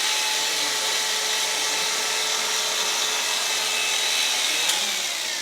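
An electric hair clipper buzzes steadily while cutting a taper during a barbering demo, a close, even high-pitched whir with no breaks.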